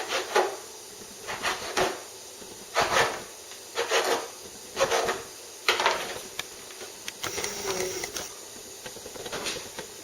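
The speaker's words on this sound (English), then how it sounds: "turn it to the side and cut them into cubes" A sharp knife slices a meatloaf ingredient into cubes on a cutting board, giving a series of crisp, rhythmic chopping thuds and scrapes, close and fairly distinct, spaced about a second apart.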